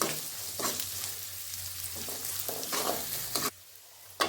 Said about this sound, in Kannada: ಈರುಳ್ಳಿ ಮೆತ್ತಗಾಗೋವರೆಗೂ ಬಾಡಿಸ್ಕೊಡ್ರಿ